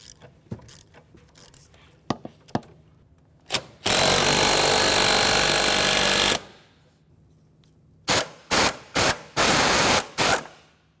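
A power tool spins off a 12mm nut from the exhaust heat shield of a 2005-2010 Chevrolet Cobalt. One long, loud burst runs for about two and a half seconds, followed by several short bursts, with scattered clicks between them and no talking.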